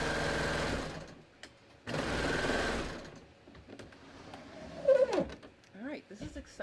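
A serger sewing machine runs in two loud bursts while chaining off fabric on a sleeve seam, then goes quiet, leaving fainter scattered clicks and tonal sounds.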